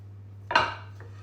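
A fork scrapes and clinks once against a bowl while mashing butter into coconut milk cookie mixture, a short close scrape over a faint steady hum.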